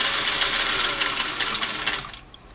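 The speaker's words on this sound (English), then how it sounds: "Let's continue on sewing." A Singer 503A twin-needle sewing machine runs a straight stitch in one continuous whirring burst with a fast ticking needle rhythm, close and fairly loud, then cuts off abruptly near the end.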